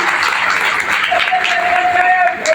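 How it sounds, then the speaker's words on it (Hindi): Steady crowd applause fills the whole stretch, dense and loud, with a whistle-like tone and voices mixed in partway through. "आप एक बार जोरदार तालियों से मेरे अतिथियों का स्वागत करें"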